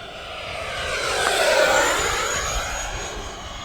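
FMS F-16C 70mm electric ducted fan model jet flying at full throttle, a steady loud whine and whoosh that swells as it passes closest, then slowly eases off, with no talk.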